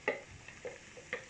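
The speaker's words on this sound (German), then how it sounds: "Und rühren das nochmal cremig." A spoon stirs creamy zucchini sauce with gnocchi in a pan, producing a few soft scraping and wet squelching strokes, quiet and close, with no voices.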